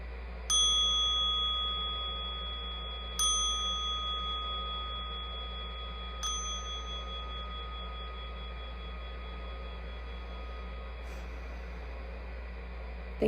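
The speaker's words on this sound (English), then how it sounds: "listening for the sound of the bell" A meditation bell is struck three times at a slow, even pace, each clear ring decaying gradually over a steady background hiss and low hum, with a fourth faint, distant tone later.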